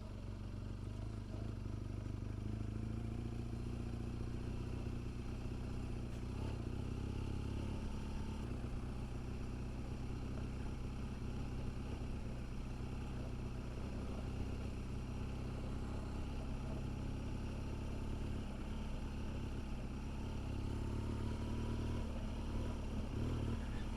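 A BMW GS 1200 motorcycle rides off-road across slippery sand, its engine droning steadily and fairly quietly throughout with faint clatter and no talk over it.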